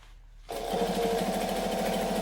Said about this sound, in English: Alright, so stitch along the bottom. I'm going to back stitch.